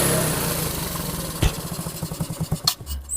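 A 1981 Honda Super Cup motorcycle engine idles near, then slows into a run of uneven, widening putters and coughs as it gradually dies out, the beats spreading apart before stopping.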